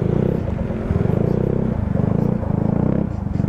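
A motorcycle on a road ride near San Pascual and Ambawan, its engine holding a steady, close, low rumbling drone with slight throttle surges and no talking.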